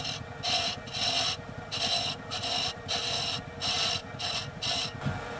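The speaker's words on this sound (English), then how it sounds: "I'm just going to use a detail chisel for that." A detail chisel rounds over the raised edge of a wooden toy truck part, giving repeated rasping strokes in a steady rhythm, about eight close scraping passes with brief pauses between them.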